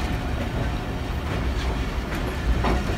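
Marvi Express train at Hyderabad railway station, a continuous rumbling roar of rail cars rolling past with faint clattering wheel sounds and occasional brief squeals, close and steady throughout.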